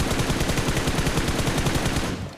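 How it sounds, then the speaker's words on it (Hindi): Rapid automatic gunfire in the video game PUBG: a continuous burst of closely spaced, loud shots fired in fast regular rhythm, close and dense, trailing off at the end. "मैं इसके ऊपर फायर लेता हूँ।"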